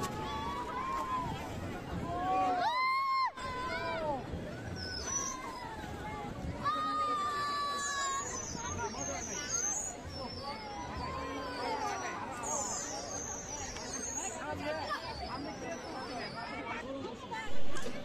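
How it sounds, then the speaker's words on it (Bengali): A large crowd queues at a Bengali New Year fair, waiting for a Ferris wheel ride: steady, close babble of many voices with higher children's cries rising over the hubbub. "দেখা যাচ্ছে এখানে অনেক মানুষের সিরিয়াল, অনেক ভিড়।"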